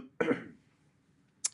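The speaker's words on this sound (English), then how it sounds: "I'm coughing right into you." A single close, sharp cough with a throaty rasp, followed by silence and a brief faint click.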